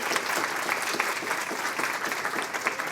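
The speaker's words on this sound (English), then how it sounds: "Round of applause." An audience applauds after a data science talk on pricing and promotion, a dense steady wash of clapping at moderate loudness, alone with no voices, lasting the full few seconds.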